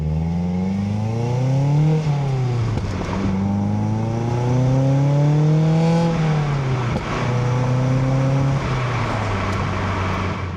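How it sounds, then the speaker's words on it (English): Mazda NC Miata fitted with a SuperQ exhaust, catless header and catless midpipe, revving repeatedly in rising and falling sweeps, loud and close, with no talk. "This exhaust does not drone at all, even with catless header and catless midpipe."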